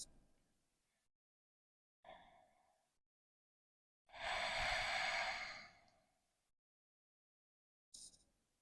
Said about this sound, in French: Retrouvez des respirations lentes et profondes.